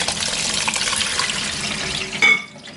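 Running tap water splashes over freshly picked olives being rinsed in a strainer, a steady close hiss of flowing water that briefly swells near the end.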